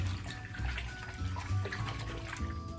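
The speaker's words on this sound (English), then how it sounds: "rinse off the brush when it gets really dusty and dirty." A Mason Pearson hairbrush is rinsed under a running tap, making a steady, close splashing rush of water that continues without a break.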